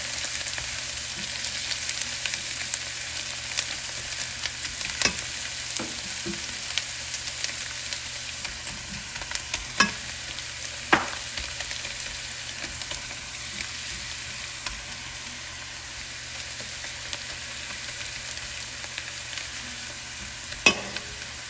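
Steady crackling sizzle of onions frying in a pan, with occasional sharper pops and clicks, continuous throughout with no talking.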